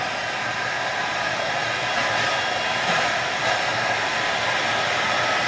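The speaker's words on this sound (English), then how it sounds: "You hear that fan coming on, it's pretty loud." The cooling fan of an HTRC T400 Pro Duo battery charger whirs loudly and continuously with broadband rushing noise, close by and unchanging throughout, with no talking.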